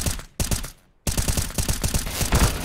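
Rapid automatic gunfire from Counter-Strike: Global Offensive, loud continuous bursts of shots broken by one short pause before the firing resumes and keeps going.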